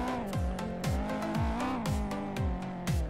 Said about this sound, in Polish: Nitro, to turbo słychać.